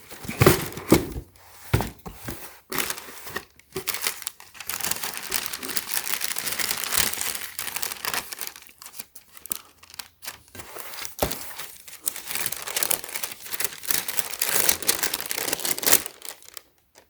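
Close, crisp crinkling and rustling of a double layer of tissue paper around Nike x Sacai Blazer Mid sneakers, in irregular bursts and brief pauses over a long stretch with no talk.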